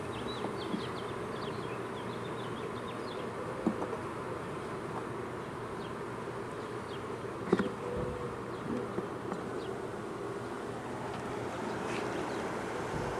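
Honey bees buzz steadily around an open hive during an inspection, a soft continuous drone with occasional nearer passes and faint handling clicks.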